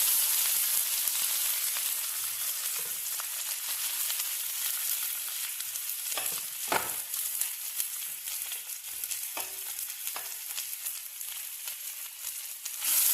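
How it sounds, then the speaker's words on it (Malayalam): Leaves dropped into hot coconut oil with mustard seeds and chilli hiss and sizzle steadily in the pan, with occasional light pops and stirring knocks, fairly quiet and close. "വെളിച്ചെണ്ണ ഒഴിച്ച് കടുകിട്ട് മുളകിട്ട് ഇനി നമുക്ക് ഇല ഇട്ട് കൊടുക്കാം."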